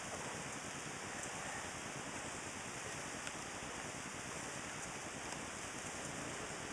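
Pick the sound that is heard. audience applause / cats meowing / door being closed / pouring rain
pouring rain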